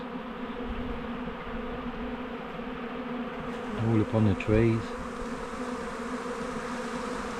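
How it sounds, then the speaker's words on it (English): A swarm of honeybees buzzes steadily around trees near a hive, with a louder burst of close buzzing as bees pass near, while someone speaks briefly. "watch out mate, there's a swarm of bees"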